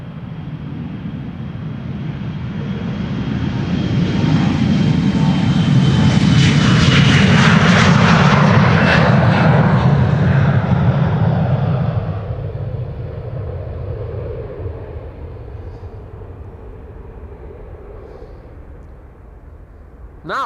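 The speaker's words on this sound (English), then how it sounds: "This is an Embraer 175 to Brussels. KLM flight 1705." A KLM Embraer 175 jet departs Amsterdam Schiphol Airport with a loud, broad engine roar that swells to a peak, then slowly fades into a distant rumble over about twenty seconds.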